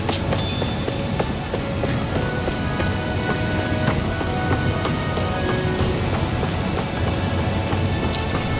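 Steady roar of a waterfall in the video game Tales of Arise, a dense, constant rush of falling water heard up close and loud, with faint scattered clicks and no speech.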